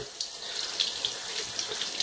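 Tap water runs steadily into a kitchen sink while fresh forest mushrooms are rinsed clean of sand and moss, a close, continuous hiss and splash with no talking.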